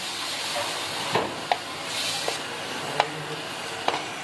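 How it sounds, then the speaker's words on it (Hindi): Tomato puree fries in a pan over high heat with a steady sizzling hiss, broken by a few sharp spits and pops, all heard close with no talk. "अब तेज आंच में ही इसकी भुनाई करेंगे।"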